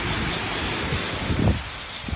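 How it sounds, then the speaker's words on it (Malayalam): Strong wind roars across the microphone in a broad, steady rush, with a few louder gusts buffeting near the end. "അത് നല്ല കാറ്റുണ്ട് കേട്ടോ"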